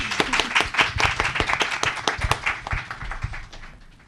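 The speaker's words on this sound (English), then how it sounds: "Final round of applause for him." Audience applause at a careers-in-languages event, a close burst of brisk hand clapping that fades gradually toward the end, with no speech over it.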